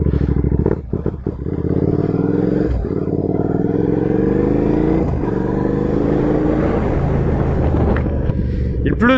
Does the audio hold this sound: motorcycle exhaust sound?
yes